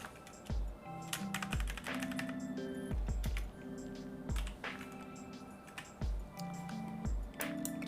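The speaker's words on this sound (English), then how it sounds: "we're going to press M on the keyboard" Computer keyboard keys are pressed in Blender, a close series of crisp clicks in short irregular bursts, some keystrokes doubled, with no voice.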